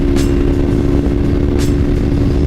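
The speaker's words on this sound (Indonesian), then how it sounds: "Ini kedengeran nggak sih bunyi anginnya?" Wind roars loudly and continuously past a rider on a Kawasaki Ninja 250 Fi motorcycle at high speed, with a steady engine hum beneath the rushing buffeting.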